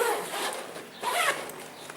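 A zipper is pulled open on an OJ Tanky expandable magnetic motorcycle tank bag, giving two quick, close, scratchy rasps with a short gap between them.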